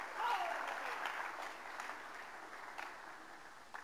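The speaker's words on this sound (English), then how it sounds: "you're clapping because it's shifting in here" An audience at a conference keynote applauds in a steady, moderately distant wash of clapping that slowly fades, with a voice faintly heard over it.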